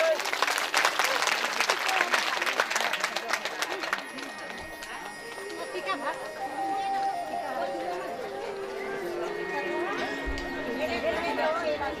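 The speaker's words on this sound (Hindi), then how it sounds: "तो महाराज जी लोगों के लिए एक ताली तो बनती" A crowd applauds loudly at a Bhagavat religious discourse, dense steady clapping for the first few seconds that thins into lingering claps and audience murmur, with voices continuing underneath.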